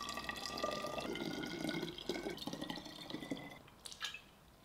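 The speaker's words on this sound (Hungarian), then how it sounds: "Nézzük előbb azt az esetet, amikor a palackot feltöltjük vízzel." Water pouring into a bottle, a continuous gurgling fill whose tone rises as the bottle fills, followed by a few drips near the end.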